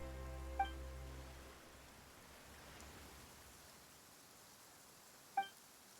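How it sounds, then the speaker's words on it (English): Rain falling in Genshin Impact, a soft steady hiss of rainfall heard fairly quietly, with two short tonal chimes near the start and end. "Why is it raining all of a sudden?"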